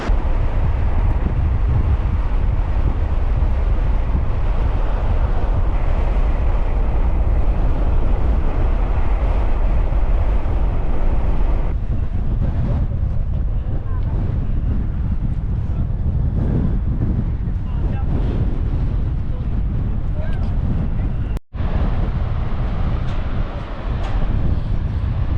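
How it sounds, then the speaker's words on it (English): The Faxafoss waterfall in Iceland roars as a steady broadband rush. Wind buffets the microphone throughout the whole stretch, and no one speaks. "beautiful waterfall. I think it's called Faxafos, if I'm not mistaken."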